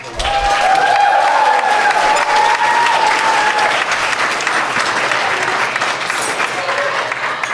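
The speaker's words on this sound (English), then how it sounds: "give us a round of applause" Wedding guests at the Black Diamond venue break into loud, sustained applause that carries on steadily throughout, a dense crowd of clapping hands close by, with a few voices mixed in.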